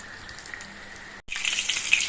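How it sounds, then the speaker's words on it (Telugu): Batter-coated chili fritters, mirchi bajji, frying in hot oil with a steady bubbling sizzle that cuts out briefly and returns louder and brighter. "సో ఇలా మనం కాల్చుకోవాలి బజ్జీలని"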